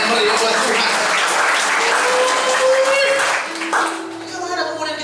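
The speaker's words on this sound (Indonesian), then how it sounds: "Berikan tepuk tangan yang meriah buat Tuhan." A church congregation breaks into loud, dense applause that fills the first few seconds, mixed with cheering voices, then fades as a sustained tone and quieter murmuring remain.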